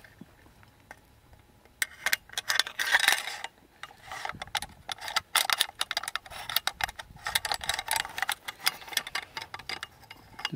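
Metal parts of a Daewoo Max II rifle's bolt carrier and piston clicking and scraping as they are fitted back together, close, with irregular sharp ticks and small clusters of clatter.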